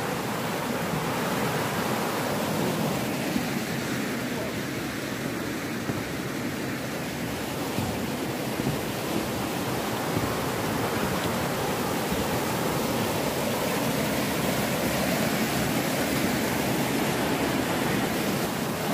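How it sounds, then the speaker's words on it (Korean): Spring water flowing near Baekdu Mountain, a dense, constant rushing and splashing that stays loud and even from start to end, with no voices. "아, 물소리 듣기 좋죠?"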